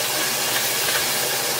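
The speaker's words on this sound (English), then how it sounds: "when deglazing with the white wine" White wine deglazing a hot pan with a seafood sauce, giving a steady, loud hissing sizzle that holds evenly from start to finish with no talking.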